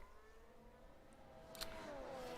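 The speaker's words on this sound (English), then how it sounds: "Do you want more of these cars in the background?" Formula 1 cars at the Monaco Grand Prix whine faintly in the background during qualifying, their pitch sweeping up and down as they pass, with a brief sharper burst near the end.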